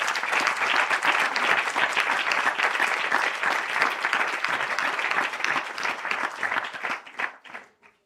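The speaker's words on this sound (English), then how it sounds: "So please, another big round of applause." A large audience in a packed hall claps loudly and continuously at a Sai Centre 100th birthday celebration, then the applause thins out and fades away in the final second.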